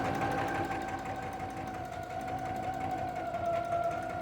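A sewing machine stitches the gusset of a lined kitchen curtain, meant to hold a curtain rod, running steadily with a close, continuous mechanical whir and fine rapid needle chatter throughout, no talking.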